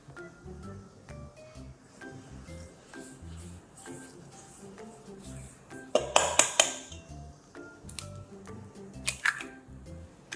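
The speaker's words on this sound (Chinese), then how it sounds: "可可粉加入细砂糖以及融化的奶油或者是沙拉油，搅拌均匀" Cocoa powder, sugar and melted butter are stirred in a bowl for brownie crinkle cookies, with steady soft scraping and a few sharp clinks of a utensil on the bowl rim, over faint background music.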